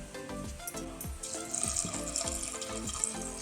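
Water pours into a cooking pot for a wild jackfruit curry, a steady close splash and gurgle with some sizzling and a few knocks underneath, and no talk.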